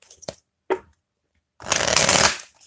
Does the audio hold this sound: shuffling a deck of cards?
yes